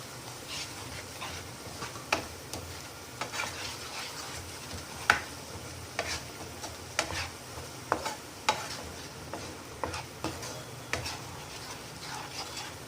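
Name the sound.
stirring masala corn in a pan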